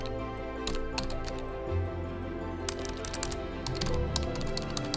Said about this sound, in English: we're simply going to type in our domain.